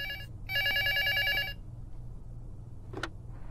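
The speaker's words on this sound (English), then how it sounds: "Oh, the phone's ringing." An in-game telephone in a video game rings with a fast electronic trill in one burst, then stops, leaving a low background hum and a faint click.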